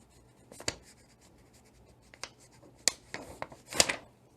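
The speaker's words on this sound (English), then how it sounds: "So you take the blank sheet of paper, and what I do is I just do the project name at the top" A pen writes a project name at the top of a blank sheet of paper, with short scratchy strokes in irregular bursts, close and fairly quiet.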